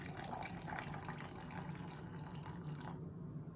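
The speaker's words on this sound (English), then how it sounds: "So I put in 100 grams of water" Water poured into a container to measure 100 grams for sourdough bread dough, a steady close trickle and splash that runs continuously for a few seconds before thinning out, with no talking.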